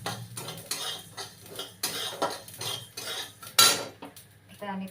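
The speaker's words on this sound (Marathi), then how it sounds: "आता बाकीच्या साहित्याला आपण थोडं थोडं तेल टाकून भाजून घ्यायचं आहे" Spices for a year-round chutney masala roasting dry in a pan with a little oil, a metal spoon repeatedly scraping and clinking against the pan in bursts, with one sharper clatter near the end.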